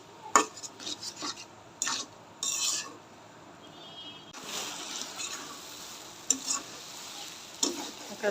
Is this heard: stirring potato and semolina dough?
yes